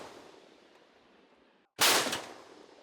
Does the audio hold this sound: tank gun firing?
yes